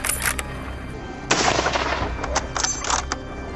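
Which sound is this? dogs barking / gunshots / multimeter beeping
gunshots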